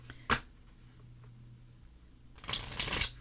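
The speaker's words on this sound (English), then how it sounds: "I want to do a couple of cut shuffles" Fortune teller game cards being cut-shuffled: a short riffle burst near the start, a quiet pause, then a longer, louder flurry of cards snapping together at the end.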